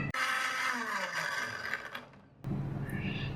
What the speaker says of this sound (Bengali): এই উপাদানগুলোকে আমি খুব মিহি করে ব্লেন্ড করে নেব।